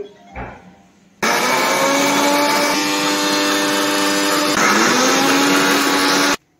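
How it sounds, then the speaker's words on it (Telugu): A kitchen mixer grinder whirs loudly and steadily for about five seconds as it grinds mint, ginger, garlic, green chilli and cumin, its motor pitch shifting slightly partway through before it cuts off abruptly. "ఇదిగోండి ఇలా మిక్సీ అయితే పట్టేసుకున్నాం. ఇందులో చెప్పాను కదా, పుదీనా, అల్లం, వెల్లుల్లిపాయ, పచ్చిమిరపకాయ, జీలకర్ర."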